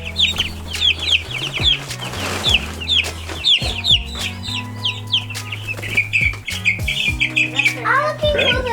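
Chickens and roosters on a farm cluck and chirp in quick, repeated calls close by, continuing throughout while people talk over them.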